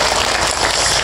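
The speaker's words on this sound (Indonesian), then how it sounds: "Tepuk tangan dulu dong buat panitia kita malam hari ini" Audience applause for the event committee at an evening Islamic religious lecture, a dense, steady wash of many hands clapping that stays loud and continuous throughout, without talk over it.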